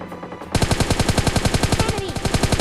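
Rapid automatic gunfire in the mobile battle royale game PUBG Mobile Lite, loud and close, one sustained burst of evenly spaced shots that begins abruptly and runs to the end.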